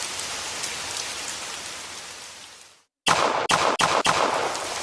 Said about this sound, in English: we can have rain from the Unity particle system.